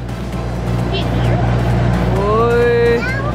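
A farm tractor idles and chugs along steadily through a woodland hayride, a constant low engine drone beneath children's voices and family chatter, with a few high whistling tones rising near the end.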